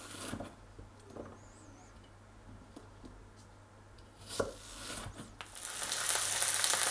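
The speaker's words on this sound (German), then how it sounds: "den Spargel brate ich einfach kurz ein bisschen an in der Pfanne mit ein bisschen Öl" Sliced asparagus hits hot oil in a frying pan. Faint scrapes and light clicks give way to a hiss that swells into a loud, close sizzle near the end.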